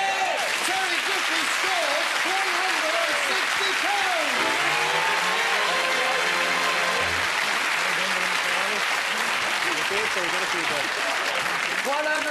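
Studio audience at a 1994 Christmas special of a snooker-themed TV game show breaks into sustained, loud applause, steady clapping filling the whole stretch, with some voices and cheers mixed in.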